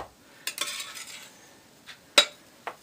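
Snickerdoodle bar dough being spread in a pan with a cake icing tool: faint scraping strokes punctuated by a few light clicks and taps of the tool against the pan, quiet and with no voices.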